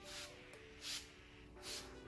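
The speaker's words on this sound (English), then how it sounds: "So sprays out pretty decently here with just one spray." An Owners Pride OP cleaner sprays from a trigger bottle in three short hissing bursts, roughly evenly spaced and fairly quiet, with a faint steady hum underneath.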